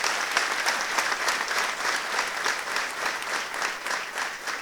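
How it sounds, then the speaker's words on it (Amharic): A church congregation claps together in sustained, dense applause, steady and fairly loud throughout, with no other sounds standing out. "ቴንኪዩ ብላችሁ እስቲ አጨብጭቡልኝ"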